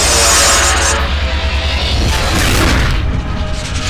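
Booming cannon fire and explosions from a space battle in a Star Wars: The Clone Wars episode, loud and continuous with rolling low rumble throughout, no speech.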